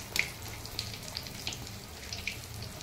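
Malpua fries in hot oil over medium heat in a home kitchen, a soft, steady sizzle with a few faint pops and crackles, fairly quiet and with no talk over it.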